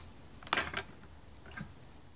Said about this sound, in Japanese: お皿も実際のものを使い、タイミングを合わせて音をとっていきます。